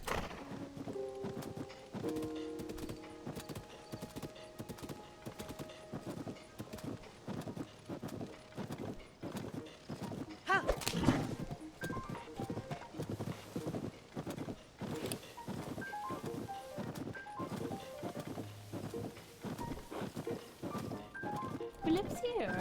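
A horse in a video game set in the Hebra region clip-clops along in a steady rhythmic gait under game music and a talking voice, with a brief louder burst partway through.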